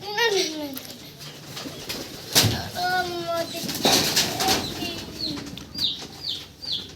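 Pigeons in a loft on a pigeon farm give a burst of wing flapping and soft, repeated coos nearby, with some voices in the background.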